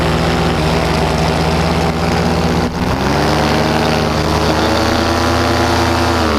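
Paramotor engine droning loud and steady during a low flying pass, a continuous buzzing hum with a brief dip partway through and no voices.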